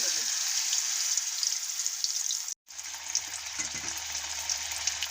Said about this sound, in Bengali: তারপর গরম তেলের মধ্যে আস্তে করে ছেড়ে দেবো।